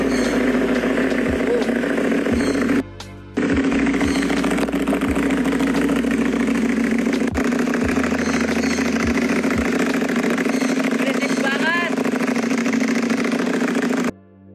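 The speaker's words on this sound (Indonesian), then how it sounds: "Sesudah motor Ducati tersebut dinyalakan di starter dan dipanaskan mesinnya ya" A Ducati motorcycle idles while warming up after being started, its steady engine rumble running almost throughout with a short break near the start; people talk over it now and then.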